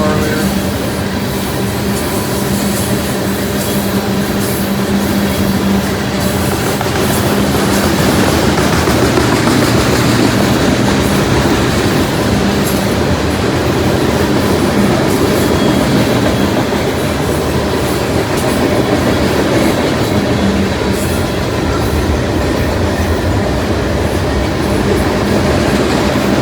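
A long freight train carrying steel slabs to a steel mill in Middletown, Ohio rolls steadily past close by, a continuous loud rumble of heavy cars with rhythmic clacking wheels and faint metallic squeals.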